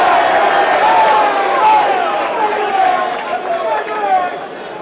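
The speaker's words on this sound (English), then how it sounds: "And obviously brings a large cheer" Crowd of Queens supporters at a rugby cup final roar in a sustained cheer, dense and continuous at moderate distance, with a commentator's voice running over it.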